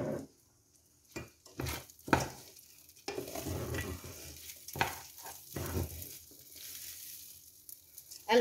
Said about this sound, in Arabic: نقلب الرز مع الزيت